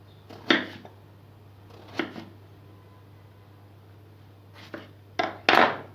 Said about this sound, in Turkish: silindir gibi böyle kesiyorum bütün patlıcanlarımı